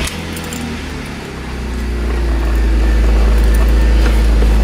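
A 2004 BMW E46 325Ci cranks and starts, with keys jangling first and then the engine catching and settling into a loud, steady low idle that continues to the end.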